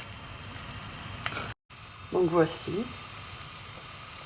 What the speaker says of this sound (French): l'ail rissole un petit peu